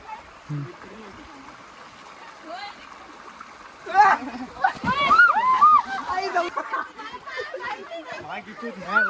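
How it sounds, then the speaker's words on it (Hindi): Flowing stream water on a mountain trip sloshes and splashes nearby, rising suddenly midway as someone wades in, under frequent chatter and laughing voices. "अरे वाहता पानी है ना, वाहता पानी है।"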